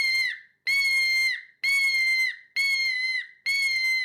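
A red-shouldered hawk scream imitated on a hawk game call, five loud, shrill, sustained screams in a steady rhythm, each ending with a short downward slur, close and with no talk.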